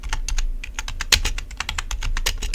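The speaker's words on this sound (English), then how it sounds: "Okay, so you type in however much you need" Fast typing on a computer keyboard, a close, steady run of crisp key clicks with one louder keystroke, heard alone without talking.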